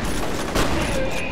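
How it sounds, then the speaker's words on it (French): Shotgun blast in the first-person shooter F.E.A.R., a single loud, sharp boom over a dense, noisy game soundscape with a murmur of voices beneath. "Même à longue portée, y'a rien de mieux qu'un fusil à pompe!"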